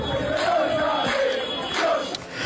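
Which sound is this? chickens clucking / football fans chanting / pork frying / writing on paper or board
football fans chanting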